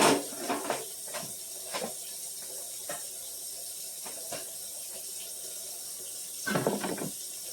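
Tap water runs into a kitchen sink while a dish drain is washed out, a continuous hiss of flow broken by repeated short splashes and knocks, with a louder burst of splashing near the end.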